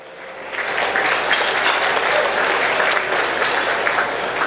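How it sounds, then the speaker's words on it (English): Sustained applause from a gala audience, a dense even wash of many hands clapping at steady loudness throughout, with no talk over it. "Another round of applause"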